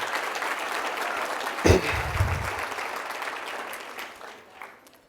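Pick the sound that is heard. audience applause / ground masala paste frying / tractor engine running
audience applause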